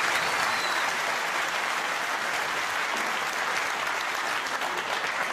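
Crucible crowd at the World Snooker Championship semi-final applauding a century break, a thick continuous roar of clapping from a large audience, even and loud from start to finish.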